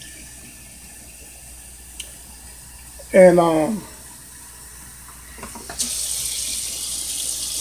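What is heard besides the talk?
water pouring into crock pot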